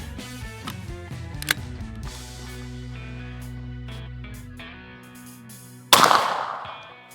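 A .410 shotgun fires a Federal TSS shell at a patterning target, one sharp loud blast late in the clip after a tonal stretch, followed by a fading echo.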